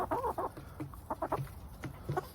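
A hen clucks in short, choppy bursts, several quick clucks in a row, close by with low farmyard background noise.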